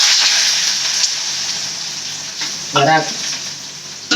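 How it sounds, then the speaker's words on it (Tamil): Curry leaves and onion fry in hot oil for a Sunday-special sankara fish curry, a loud, close crackling sizzle that slowly eases, interrupted briefly by a short spoken word and a clatter near the end. "கருவேப்பு பொரிச்சு வெங்காயம் போட்டுக்கலாம்."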